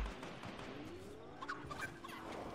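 A chicken in the Fortnite Battle Royale video game clucks in short, fairly faint bursts over steady game background noise, with the clearest calls near the middle of the clip.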